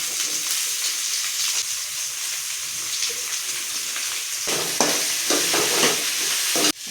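Three chopped onions sautéing in oil with cumin and fenugreek seeds, a dense, continuous close sizzle broken by scraping stirs in the second half and a sharp knock just before the end.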